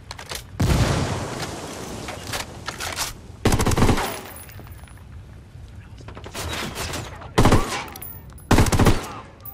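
Bursts of automatic gunfire in the open-world shooter Ghost Recon Wildlands, erupting around a parking area as loud, separated volleys with a few sharp single cracks in between and radio-style voices heard in the gaps.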